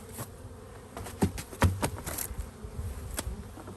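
Honey bees buzz around an open hive, a faint, diffuse hum with scattered brief knocks and taps of equipment nearby.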